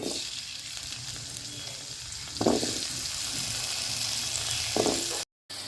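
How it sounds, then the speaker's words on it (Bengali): Diced potatoes fry in hot oil with a dense, continuous near sizzle. Two brief louder bursts come as the pieces are stirred, and there is a short dropout just before the end. "এখন আলুটা ভেজে নেব।"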